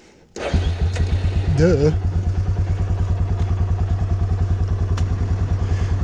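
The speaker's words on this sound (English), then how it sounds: "Let me start my four-wheeler" A four-wheeler engine cranks and catches with a sharp start, then settles into a loud, close, steady thumping idle for several seconds, with a brief voice over the start.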